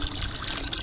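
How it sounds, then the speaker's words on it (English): Acid pours into a bucket during the acid start-up of a plaster pool, a short close splashing trickle of liquid lasting under a second. "A little bit of acid in the bucket here, maybe a little less than a quart."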